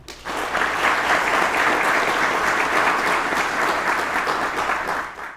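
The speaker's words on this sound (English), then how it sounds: "a round of applause" Sustained applause from an audience of guests at a Border Patrol Academy graduation ceremony, steady and full for several seconds before tapering off.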